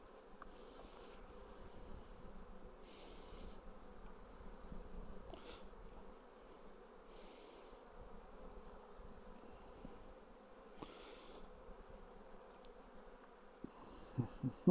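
Honeybees buzz steadily during a beehive inspection, a continuous close drone of many insects with a few louder passes near the microphone, outdoors with no voices.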